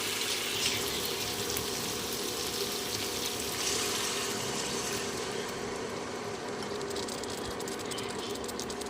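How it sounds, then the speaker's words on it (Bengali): Water is poured steadily into a pan of spiced pabda fish curry in Bengali oil-and-chilli style, a continuous, even rushing pour at moderate level from start to finish with no talking. "এবারে পরিমাণ মতন জল দিয়ে দেবো"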